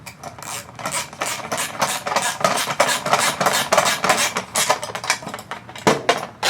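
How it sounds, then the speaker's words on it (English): A 10mm socket wrench tightening bolts on a 2024-2026 BMW i5 non M-Sport, with rapid repeated ratcheting clicks in close, steady bursts and a few brief pauses. "take your 10mm socket or wrench, if you have just a wrench, Phillips screwdriver, and just tighten them up"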